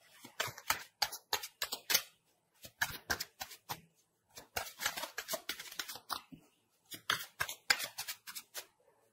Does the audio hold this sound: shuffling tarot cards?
yes